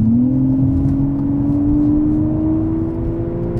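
A naturally aspirated V12 car engine accelerates steadily, its loud, smooth drone rising gradually in pitch throughout, heard close up from inside the car with no talking.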